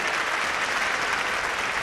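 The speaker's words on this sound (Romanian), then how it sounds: "Aplauze pentru violoncelissimo." Steady, even audience applause after a chamber music performance, dense and continuous with many hands clapping together, fairly loud throughout.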